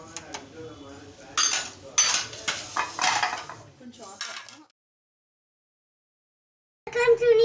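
A poha and peanut mixture being transferred into a bowl, with a run of close metallic clinks and scrapes of a spoon against cookware, then a silent gap before a voice begins speaking.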